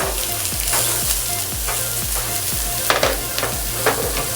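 Chopped onion and garlic sauté in a hot pan with a constant close sizzle, while a utensil stirs and taps against the pan in a regular rhythm of strokes.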